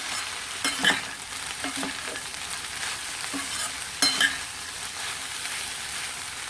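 Steady hiss of vegetables for a Surti vegetable curry sautéing in a pan, with a few scrapes and clicks of stirring, no voices.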